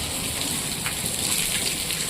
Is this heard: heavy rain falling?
yes